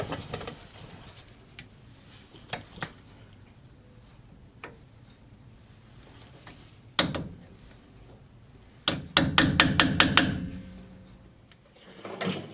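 Metal tapping while unstaking the staked nut on a Suzuki Carry DA63T differential: scattered sharp single knocks early, then a quick burst of about six rapid taps near the end, moderately close in a quiet garage.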